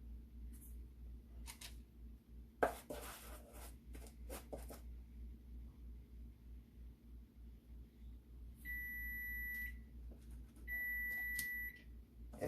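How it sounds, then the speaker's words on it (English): A kitchen oven preheating to 400 gives two short bursts of steady high electronic beeps, close and clear over a quiet low hum, with a few brief clatters earlier and no talking. "That's my oven preheating."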